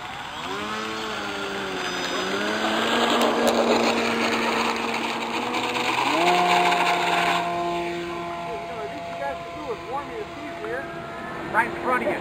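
Twin electric motors of an RC Dynam Grand Cruiser model airplane on its maiden flight, a high whining buzz that climbs in pitch as it takes off and then fades into the distance, with people talking over it.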